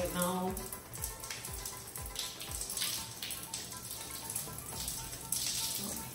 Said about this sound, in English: So I'm just drenching my hair with water right now.